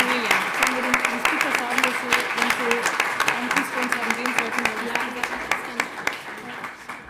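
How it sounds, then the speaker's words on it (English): A conference audience applauding panel speakers at a digital diplomacy session on AI in diplomacy and geopolitics, sustained loud clapping from a crowd while a voice speaks faintly over it. "Big round of applause, please."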